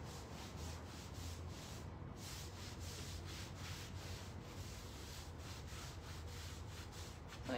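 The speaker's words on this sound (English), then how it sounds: "You just sort of keep rubbing until you're happy with it." Pureco natural paint wash being rubbed by hand onto wooden furniture, a soft continuous scrubbing with regular back-and-forth strokes, close and fairly quiet, with no talking.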